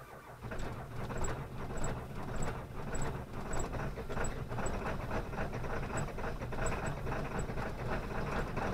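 A 2002 Ford F250 with the 7.3 diesel cranks on a cold start, a steady grinding churn with faint rhythmic squeaks that continues without catching.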